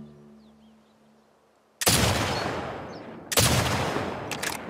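Two loud, heavy sniper rifle shots in The Last of Us Part II, each a sharp crack trailing into a long echoing rumble, separated by a pause after a quiet start.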